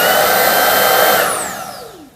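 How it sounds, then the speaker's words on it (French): A Dreame Trouver Power 11 cordless stick vacuum runs in turbo mode with a loud, close, high-pitched motor whine, then shuts off and winds down with a falling pitch. "quand je ne suis pas verrouillé, on va mettre en route l'aspirateur"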